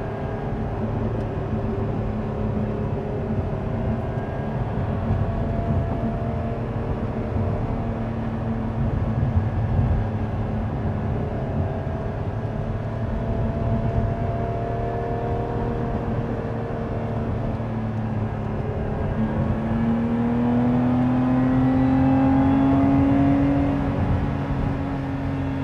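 Lotus Emira sports car engine and exhaust on the move, a steady, moderately quiet droning hum heard from inside the cabin, with the pitch climbing and the sound swelling slightly toward the end.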